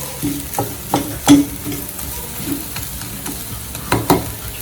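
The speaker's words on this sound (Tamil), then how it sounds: "நல்லா கிண்டிக்கலாம்." Pepper chicken with cumin and black pepper sizzles in a frying pan while a spoon stirs it, with scraping knocks against the pan in an irregular rhythm over a steady close hiss.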